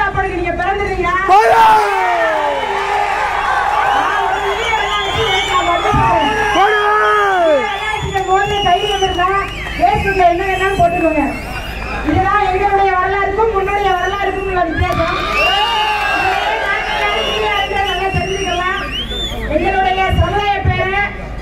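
Large crowd gathered at a January 23 protest in Chennai, a dense continuous hubbub of many voices with shouts and cheers rising and falling throughout, loud and close.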